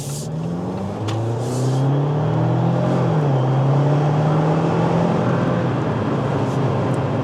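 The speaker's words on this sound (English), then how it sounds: "once that little engine revs up, it really kicks in gear, and it just feels strong" A 2025 Jeep Wrangler Willys 4xe plug-in hybrid accelerates from inside the cabin, its small engine revving up with a rising then steady drone, fairly loud and without speech.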